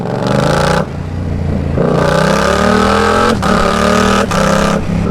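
A Yamaha R7 sport motorcycle, 60th anniversary edition fitted with a full exhaust line, accelerates hard through several gears, its loud close engine note rising in pitch with brief dips at each shift and no talk over it.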